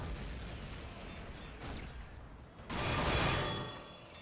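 Gunfire and explosions in a Men of War: Assault Squad 2 battle, a dense wash of distant shots and rumbling blasts that swells into a louder boom near the end, with no talking.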